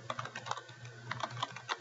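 Keys clack in quick, irregular bursts on a computer keyboard as a lesson title is typed into a school staff hub, a soft, close run of taps with short pauses between and no voices.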